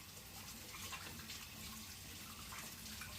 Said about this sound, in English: Now, yes, I seriously need to wash my hands.